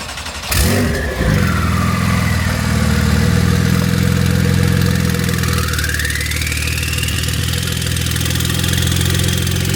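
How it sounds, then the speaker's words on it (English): Porsche with the stock sport exhaust and catless mid pipes revs hard after a sharp start, holding a loud, raspy engine roar for several seconds with a rising and falling pitch, close and without talk. "Literally, stock sport exhaust, catless mid pipes, go."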